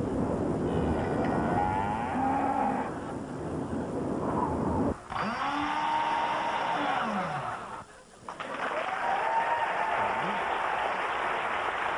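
A cow on a late-1990s satellite TV channel lets out several long, drawn-out moos over a steady hiss of broadcast noise, each rising and falling call clearly audible, with a few brief dropouts between them.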